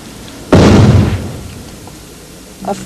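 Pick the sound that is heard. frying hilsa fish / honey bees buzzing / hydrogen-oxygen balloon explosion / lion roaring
hydrogen-oxygen balloon explosion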